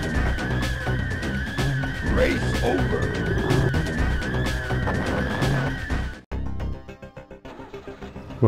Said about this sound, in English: I don't know if that tyre squeal is glitched or if there's just a lot of tyres squealing